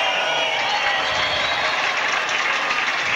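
French Open final tennis crowd giving a steady, broad wash of murmuring and scattered clapping, loud and continuous throughout, with no clear individual voices.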